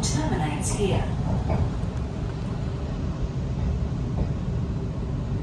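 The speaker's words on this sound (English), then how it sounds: "By the looks of things over on platform one, there's quite the long Oscar train." A long Sydney Trains Oscar passenger train sits idling at a platform, a steady low mechanical rumble filling the station, with faint clatter and a brief voice early on.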